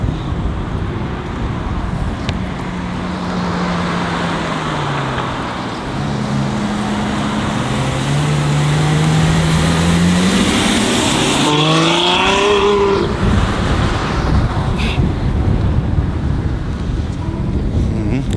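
A Ferrari F12 on new wheels passes under wind noise, the engine tone rising and sweeping upward as it approaches and accelerates, then fading into a loud rushing roar.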